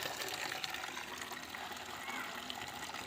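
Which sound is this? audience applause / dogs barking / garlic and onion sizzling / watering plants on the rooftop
watering plants on the rooftop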